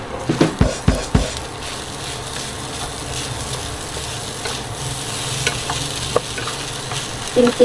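A pan stir-fry for shrimp-paste rice, heard up close. A few sharp clanks of the utensil against the pan open it, a steady sizzle follows, and another burst of clattering stirring comes at the end.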